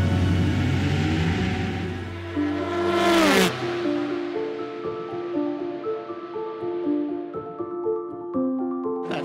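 A Ford race car at the 87th running of the 24 Hours of Le Mans roars close by, its engine note sweeping downward as it passes, then settles into steady revving tones from cars further off.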